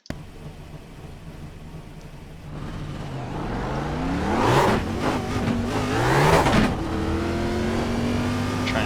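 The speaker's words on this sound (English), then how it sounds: "Try and spin the tires a little bit." A NASCAR race car in the iRacing sim at New Hampshire revs up with spinning tires, its engine pitch rising and falling through two loud surges, close and alone with no talk.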